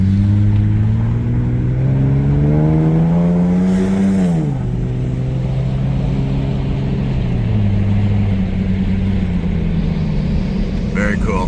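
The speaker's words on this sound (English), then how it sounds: "Got my window down, so hopefully you can hear this exhaust." A Toyota Land Cruiser 80 series exhaust booms as the truck accelerates with the window down, the engine note climbing through a gear before shifting and settling, loud and close, with a voice talking over it.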